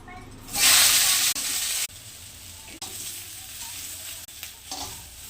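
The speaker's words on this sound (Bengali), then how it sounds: "আলুটা ভেজে তুলে নেবো।" Potatoes fry in a pan for a bitter gourd and potato curry, opening with a loud, bright hiss as they hit the hot oil, then settling into a softer, ongoing sizzle broken by stirring sounds.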